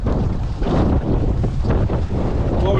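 Steady wind roars across the microphone aboard a sailboat beating down a lake, with water rushing and splashing against the hull, loud and continuous with gusty surges throughout.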